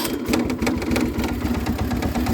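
A John Deere 200 series garden tractor engine running with a rapid, even mechanical chugging, close and steady throughout, with no talk.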